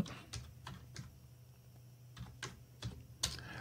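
A computer keyboard clicks with scattered, irregular keystrokes over a low steady hum, close and fairly quiet, while a command is entered on a Linux desktop.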